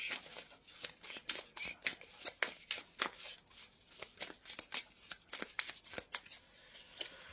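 Tarot cards shuffled by hand, a rapid run of crisp riffling bursts in a quick irregular rhythm, close and clear, with no speech.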